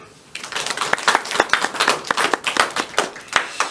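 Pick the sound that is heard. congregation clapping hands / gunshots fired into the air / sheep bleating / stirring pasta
congregation clapping hands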